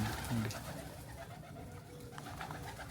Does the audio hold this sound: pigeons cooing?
yes